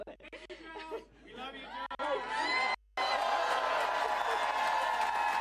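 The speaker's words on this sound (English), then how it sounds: "Do you hear this clapping?" A rally crowd at a speech bursts into loud, sustained applause and cheering that fills the space after a stretch of crowd chatter and amplified talk.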